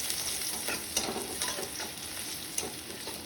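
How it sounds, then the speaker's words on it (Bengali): Chopped onion fries in a pan with a constant hot sizzle, broken by a few sharp scrapes and clicks of stirring, close and clear with no voices. "এখন পেঁয়াজটা ভাজা ভাজা হয়ে গেছে"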